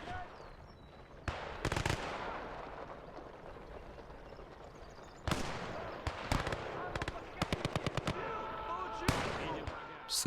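Gunfire crackles through a woodland firefight in the WWII game Gates of Hell: Ostfront, with bursts of rapid automatic fire and sharp single shots at varying distances over a constant battle rumble.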